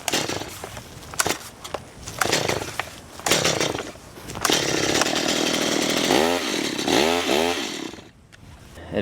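A chainsaw engine sputters and revs unevenly, cutting in and out in bursts, near and loud, failing to start and keep running.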